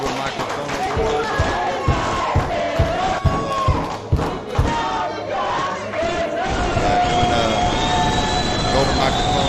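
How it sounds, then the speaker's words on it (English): Large crowd roaring and cheering throughout a darts final night in Philadelphia, with rhythmic chanting swells and bursts of noise, a commentator's voice audible over the din. "you can hear the crowd getting into it"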